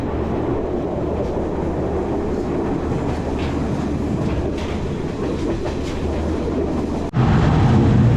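A train runs along a railway in Sri Lanka, heard from on board as a loud, steady rumble with rhythmic clatter of wheels on track, growing suddenly louder near the end; no one speaks.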